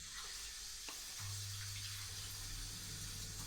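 Water runs steadily from a tap while chopped garlic is rinsed, a faint continuous hiss with a low hum starting partway through, heard close and without speech.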